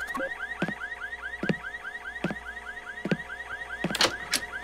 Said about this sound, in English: I leave the car alarm on